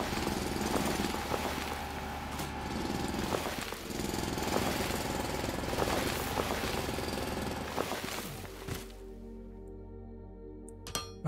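A steady mechanical drilling drone from the game Foundry, rattling and humming continuously at moderate volume with periodic tonal pulses, then cutting out into quieter machine hum near the end.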